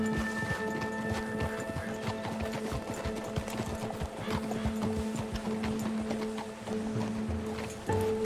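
Horse hooves clip-clopping in a steady trotting rhythm in Red Dead Redemption 2, with a brief whinny and a wash of water or surf in the background.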